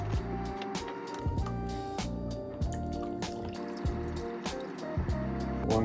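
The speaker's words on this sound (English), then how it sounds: "you want to pour out 3 cups of this" Liquid for homemade mango wine poured into a bowl in a home kitchen, a steady splashing trickle punctuated by sharp knocks and clinks of containers, fairly close and quiet.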